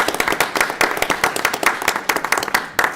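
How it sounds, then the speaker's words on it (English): A room at a public works and safety board meeting breaks into a short burst of applause, many hands clapping briskly and unevenly at close range for a few seconds. "can we just give her one more round of applause?"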